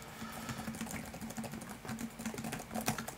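Fingers type rapidly on the keyboard of a Dell XPS 17 (9700) laptop, a dense run of light, close clicking keystrokes with uneven rhythm and no speech.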